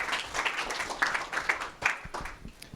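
A lecture audience breaks into applause as a speaker is introduced at a data science talk: a short burst of scattered hand claps at moderate level, uneven and thinning toward the end.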